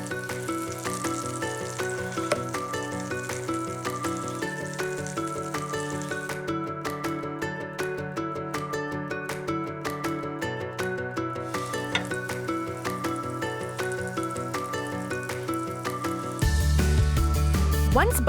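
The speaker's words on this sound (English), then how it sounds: "That butter is sizzling up." Butter sizzles steadily in a hot pan ready for pancakes, a constant crackling hiss running under light background music throughout.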